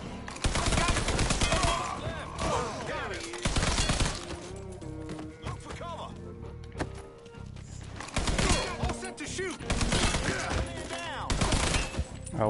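Gunfire in Mafia 3 comes in repeated loud, sharp bursts across the stretch, rapid volleys separated by brief lulls, dense and close, with ringing tones between shots.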